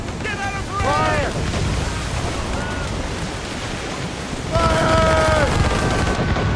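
Ship cannon fire during a naval battle in the video game Assassin's Creed Rogue, a dense, continuous roar of booming volleys over crashing waves, with shouted voices rising briefly on top and swelling louder near the end.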